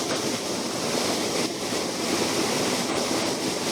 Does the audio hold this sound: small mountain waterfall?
yes